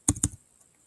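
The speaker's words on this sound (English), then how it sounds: "So we'll type in the name, the article title is Theodore" Two quick keystrokes tap on a computer keyboard, close and crisp, then silence.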